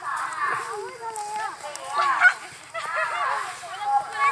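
Ducks quack and honk repeatedly, fairly close, in overlapping calls, with people talking nearby.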